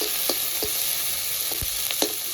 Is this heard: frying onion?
yes